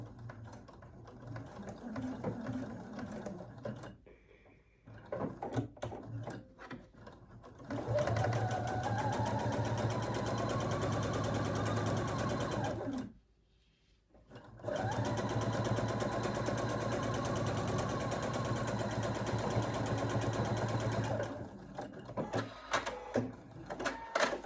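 A Quilt Expression 4.2 sewing machine runs a quarter-inch seam through fabric, whirring steadily and close in two long stretches with a short pause between, after a few stop-start bursts.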